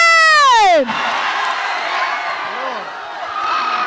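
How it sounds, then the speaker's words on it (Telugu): A crowd at a Bro movie trailer launch event in Vizag erupts into loud, continuous cheering and applause, following a brief amplified tone, sustained and dense throughout. "అందరూ సపోర్ట్ చేసిన ప్రతి ఒక్కరు కూడా ఉషాతో గట్టిగా చప్పట్లు కొట్టాలి"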